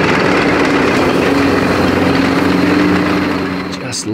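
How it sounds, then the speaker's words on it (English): Loud tank engine under a stress test running steadily with a rising whine from a turbo spooling up, close and droning, easing off slightly at the end. "Listen to that turbo spool up."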